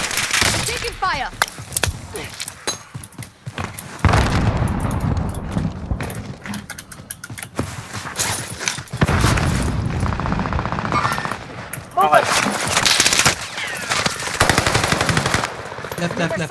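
Gunfire in a Call of Duty-style multiplayer match, dense loud automatic bursts and explosions running through the whole span, mixed with game sounds and voices speaking over it.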